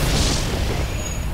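A missile from the Artemis launcher fires and explodes in the spaceship strategy game FTL, a loud, broad booming blast with a deep rumbling low end that holds steady for just over a second before thinning slightly.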